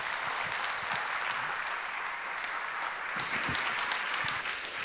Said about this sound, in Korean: 박수로 한번 환영하겠습니다